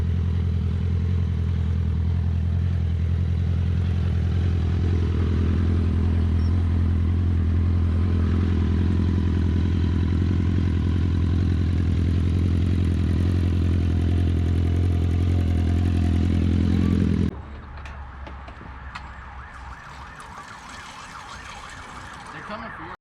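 RatherBWelding's buggy in low range first gear, with a loud steady low engine drone and hum running continuously, then cutting off abruptly to a quieter rattling background near the end.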